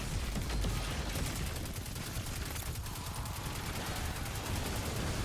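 Guns fire in a sci-fi shooter game, a dense, loud, continuous stream of rapid shots rattling for several seconds.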